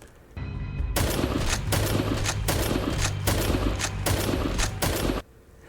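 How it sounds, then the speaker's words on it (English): A weapon fires continuously in an indie 2D action shooter game, a loud, dense stream of rapid shots lasting several seconds with brief gaps before stopping abruptly. "If you space out your shots, however, you can fire continuously without ever overheating the weapon."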